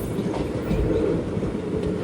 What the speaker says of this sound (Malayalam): 9:40 ട്രെയിൻ ഇപ്പോൾ കാരക്കുടി ജംഗ്ഷനിലേക്ക് ഇതാ എത്തുകയാണ്